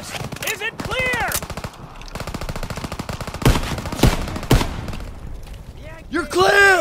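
An MG machine gun fires in Call of Duty: WWII during a hill assault, with long, rapid bursts of close, loud automatic fire and sharp heavier cracks, while soldiers shout over the shooting.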